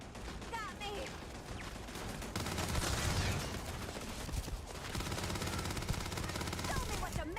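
Rapid bursts of automatic turret gunfire in the video game Starfield, dense repeated shots sustained across several seconds with a player talking over the combat.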